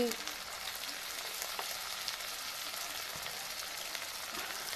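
Tomato and turmeric frying in a pan on a home kitchen stove, a soft continuous crackling sizzle heard close and fairly faint, with a few small scrapes and taps.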